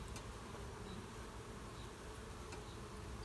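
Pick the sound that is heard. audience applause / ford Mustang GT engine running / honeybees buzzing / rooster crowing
honeybees buzzing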